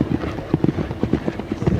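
Horse hooves galloping on the cross-country course at the Badminton Horse Trials, a steady rapid drumming of hoofbeats under broad crowd and outdoor ambience, moderately close.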